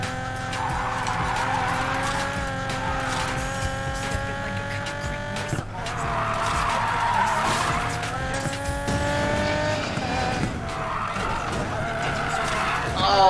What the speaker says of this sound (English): It's drift time,